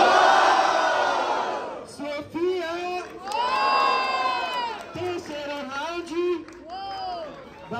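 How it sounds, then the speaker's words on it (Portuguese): Crowd at a Brazilian street rap battle cheering and shouting loudly, a dense roar at the start, then bursts of whoops and yells over an MC's amplified voice. "muito barulho pra Sofia, minha família!"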